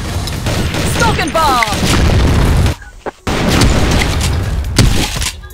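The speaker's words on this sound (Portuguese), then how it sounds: "Cara, eu atirei um cara do time" Rapid gunfire in a competitive first-person shooter game as a player shoots a teammate: dense, loud bursts of shots fill the clip, break off briefly near the middle, then resume just as heavily.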